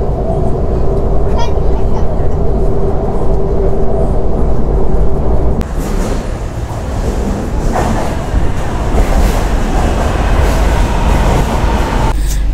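A metro subway train ride gives a loud, constant rumble with rattling carriage noise and faint clickety-clack, shifting in tone midway as the train changes pace, with no talk.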